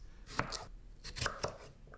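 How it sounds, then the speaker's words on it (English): A knife chops washed vegetables into bite-sized pieces on a board, a few sharp, close cuts in two quick bursts with brief pauses between. "we'll chop them up into bite-sized pieces"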